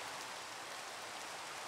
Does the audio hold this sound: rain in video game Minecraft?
yes